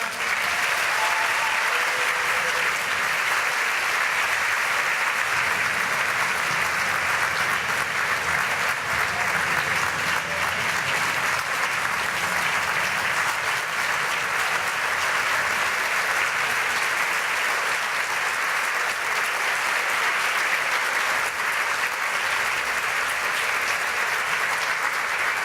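Sustained audience applause at an annual dinner welcomes keynote speaker Susan Stamberg, a steady, dense wash of clapping from a large crowd that holds evenly for about twenty-five seconds with no speech over it.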